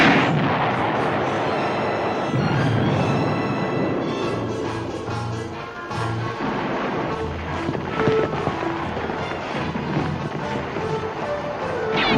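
Autocannon firing in a sci-fi battle scene with starfighters and turrets, loud sustained rapid bursts of booming shots mixed with explosions and rushing noise, dense and continuous throughout.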